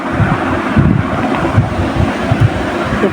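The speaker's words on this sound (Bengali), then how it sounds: "বাইরে প্রচুর বৃষ্টি হচ্ছে বাতাসও আছে প্রচুর" Heavy rain and strong wind roar outside, a dense, loud, continuous rushing wash with gusty low rumbles and no talking.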